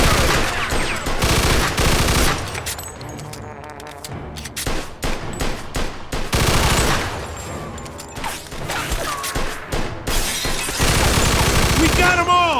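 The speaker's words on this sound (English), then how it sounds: "Stop shooting that fucking thing! I'm going deaf over here!" Gunfire in the video game Mafia: loud rapid bursts of automatic fire and repeated shots with glass shattering, broken by brief lulls, as voices shout over the din.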